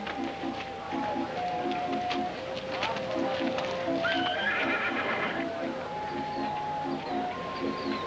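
A horse whinnies loudly up close, over rhythmic clip-clopping hooves that repeat in regular bursts, with faint bird cooing in the background.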